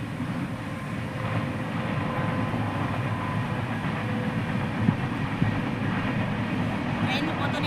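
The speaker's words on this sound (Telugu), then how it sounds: "ట్రైన్లు పోతూనే ఉంటాయి." A train passes near an outdoor picnic meal, producing a continuous, even rumble of wheels and cars that fills the whole stretch at steady loudness, with a couple of faint clinks.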